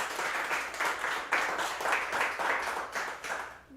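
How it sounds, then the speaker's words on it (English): An audience at a modular synth society live performance claps, a dense steady round of applause lasting a few seconds, with bursts of individual claps in rhythm throughout. "Let's give them a round of applause so everybody can hear it on the stream."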